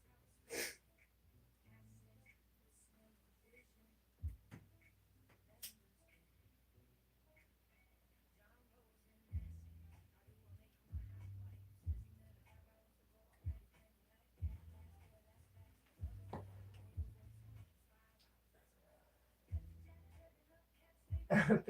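A person sneezes repeatedly, several sharp bursts spread across a quiet stretch of snorting, sniffling and breathing, close to the microphone.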